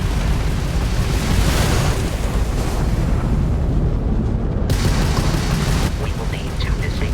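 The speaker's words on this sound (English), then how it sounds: "that's a Crimson Fleet ship bringing its weapons to bear" Ship combat in Starfield as a Crimson Fleet ship opens fire, with heavy booming blasts and rumbling explosions loud and continuous under a voice speaking.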